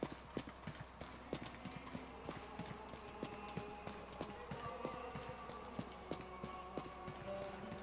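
A horse gallops in a medieval GTA-style video game, with quick rhythmic clip-clop hoofbeats repeating steadily over a low background hum, fairly faint and without talk.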